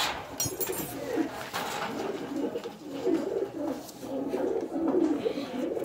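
A pigeon coos repeatedly in soft, low, rolling phrases, fairly close, with a faint hiss of background and brief rustling near the start.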